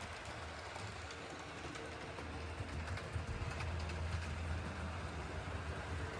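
An HO scale model diesel locomotive pulling boxcars with a caboose runs steadily, a faint, quiet rolling hum and light track clatter that holds even throughout.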